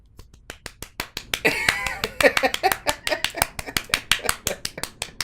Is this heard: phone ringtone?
no